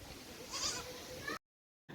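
A five-month-old Anglo-Nubian doe goat, bottle-fed and for sale in Shymkent, gives one drawn-out, fairly faint bleat that lasts just over a second before the sound cuts to silence.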